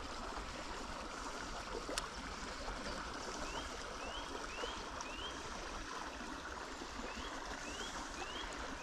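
A stream current flows steadily into a fishing pond, a soft continuous rushing and trickling heard from close by, low in level, with a few faint bird chirps over it and no talking.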